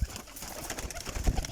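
Pigeons coo in a loft, a few soft, throaty low calls close by, with light shuffling between them and no talk.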